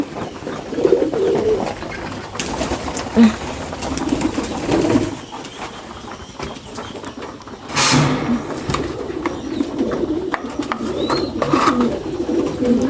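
Pigeons and doves coo at feeding time, overlapping low throaty calls from several birds nearby, broken by a brief quieter gap and a sharp rustle or flutter partway through.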